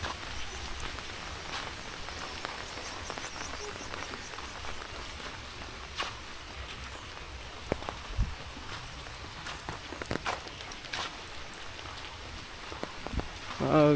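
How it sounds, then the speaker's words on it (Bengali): Light drizzle falls in a village on a rainy day, a faint, steady patter of drops with a few soft knocks and scuffs nearby and a brief louder bump at the very end. "টিপ টিপ করে বৃষ্টি পড়তেছে।"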